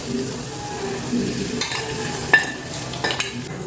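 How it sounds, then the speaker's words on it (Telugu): Hot tempering sizzles as it's poured into curd poha, followed by scraping and stirring clinks of a spoon against the pot, moderately close. "ఇప్పుడు ఈ తాలింపు తీసుకొచ్చి ఇందులో వేసేయండి"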